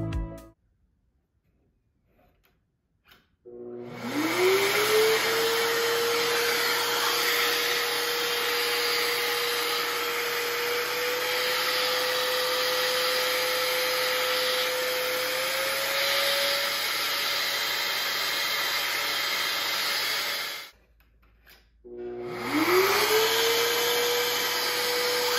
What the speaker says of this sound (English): This machine differs from my shop vac in that I can actually control the amount of suction.